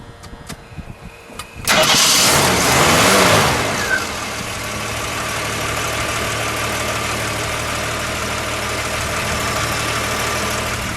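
A 1972 AMC Hornet SST with recent engine work cranks and fires into a loud start, then revs briefly and settles into a steady, even idle, heard up close with no talking.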